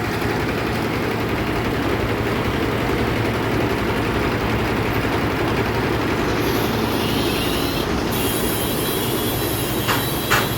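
A mobile engine-driven expeller pressing mustard or sunflower oil, with its filter machine belt-driven off the same engine, runs loud and steady with a dense mechanical drone and rattling throughout, plus a few sharper clanks near the end.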